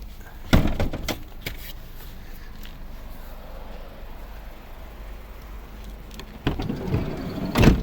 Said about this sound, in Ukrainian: двері здвижні.